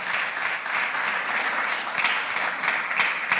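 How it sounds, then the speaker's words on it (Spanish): A church congregation claps for Christ in a steady, full round of applause with a few sharper individual claps standing out, continuous and even in loudness, and no speech on top. "¿Cuántos le podemos dar un fuerte aplauso a Cristo?"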